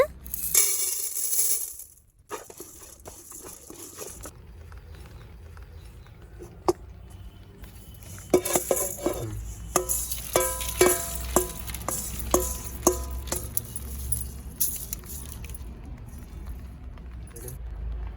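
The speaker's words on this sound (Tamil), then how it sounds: "நெக்ஸ்ட்டு துவரம்பருப்பு வறுத்துக்கலாங்க." Toor dal dry-roasting in a pan for homemade sambar powder, with scattered scraping and rattling stir strokes that grow busier in the second half, close and moderately loud.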